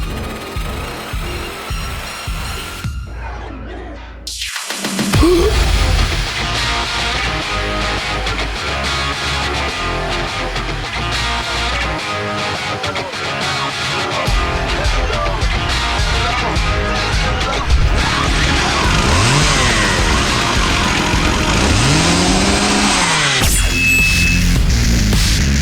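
A chainsaw revs as a dramatized sound effect in an audio manga, a dense, sustained mechanical roar with whining pitch sweeps that runs loud for most of the stretch after a brief pause, layered with music-like effects.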